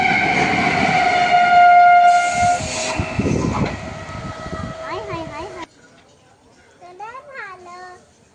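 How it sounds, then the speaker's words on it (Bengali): A train pulls into a station platform with a loud rumble and a sustained horn blast, followed by wavering siren-like tones and people's voices as it comes to a stop. "ট্রেন ঢুকে গেছে প্ল্যাটফর্মে"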